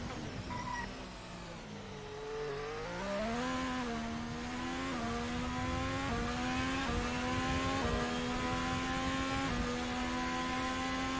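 A race car engine in a video game, heard onboard during a lap of the Algarve circuit, revs steadily through gear changes, pitch climbing and dropping in repeated shifts, loud and close with no talking.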